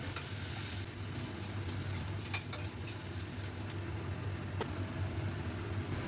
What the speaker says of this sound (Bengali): খুব ভালো করে নাড়াতে থাকবো যাতে দইটা ফেটে না যায়।